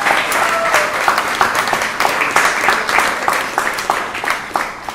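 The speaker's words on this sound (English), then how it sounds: "so a big round of applause to them." A student audience at a university game showcase applauds loudly, dense clapping with distinct individual claps popping out across the whole stretch and no speech over it.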